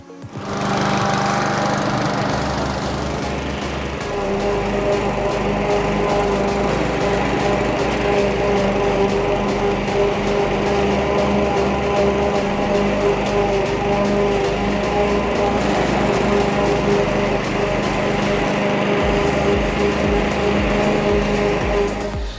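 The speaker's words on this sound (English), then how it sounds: "we should be right to incorporate this into my weekly mowing, start training it down short" A lawn mower cutting zoysia grass on its first mow: a loud, close, steady engine drone with a constant buzzing whine that runs the whole time, with slight shifts in load and no voices.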